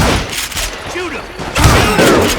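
Rapid bursts of gunfire crack out in the Western shooter Call of Juarez: Gunslinger, a loud volley of overlapping shots with a sharp second burst after a brief lull, amid shouting voices.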